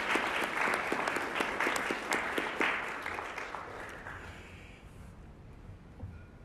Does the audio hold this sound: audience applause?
yes